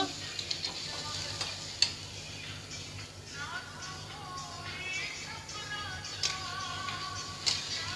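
Potato and egg curry gravy is stirred in a pan, the spoon scraping and clinking over a soft, steady sizzle, fairly faint, with a few sharper knocks.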